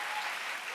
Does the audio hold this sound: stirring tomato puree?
no